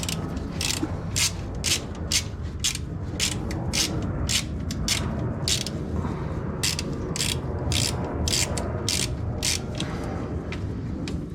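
A ratchet turning on a 3rd Gen 4Runner engine, giving rapid, loud clicking bursts in a steady rhythm that repeats close up over a constant low mechanical rumble.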